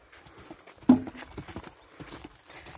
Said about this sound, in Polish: Galop, hop, galop.